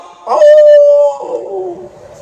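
A human voice imitates a dog howling, a single short rising yelp that settles into a sustained tonal howl and then trails off into a lower, wavering moan, close and loud.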